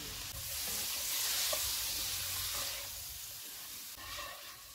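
Fried potatoes with garlic, lemon juice and fresh coriander sizzle steadily in a hot pan while being stirred, a constant close hiss with soft scraping and mixing sounds.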